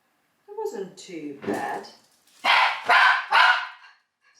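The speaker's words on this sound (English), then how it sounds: "Sorry about my dogs." Several dogs bark in a kitchen where turkey stock is being prepared for pressure canning, with a few sharp bursts that overlap a person speaking nearby.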